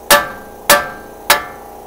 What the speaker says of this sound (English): We'll smack it and get it to come loose.